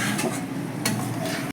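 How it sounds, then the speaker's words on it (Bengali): Jackfruit and prawn curry stirred in a pot gives a brief, close run of scraping and clinking against the metal with a faint sizzle beneath, then stops abruptly. "এবার আমি ভালো করে মিশিয়ে নিচ্ছি।"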